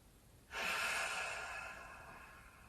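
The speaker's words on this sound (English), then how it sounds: "Breathe in through the nose." A single slow breath drawn in through the nose during a gentle yoga session, a soft airy inhale that starts abruptly and then fades gradually over about two seconds, close and alone.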